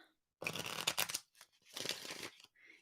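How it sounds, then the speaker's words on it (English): Tarot cards being shuffled by hand in two bursts of papery riffling and slapping, close and fairly quiet, with a short pause between and a faint rustle at the end. "Just got to shuffle up the cards one more time."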